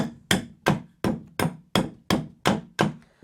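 Eight sharp, evenly spaced knocks ring out as mosaic pieces are nipped on an old pounding block, each strike close and loud with a quick decay, no talking.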